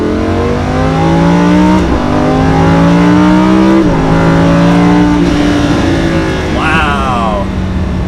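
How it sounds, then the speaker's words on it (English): A Lamborghini Huracan LP 610-4 accelerates hard on a highway, its engine climbing loudly in pitch through several gears with brief dips at each shift, heard from inside the car, close and dominant. "give it a little bit more gas than half throttle, but that really took off"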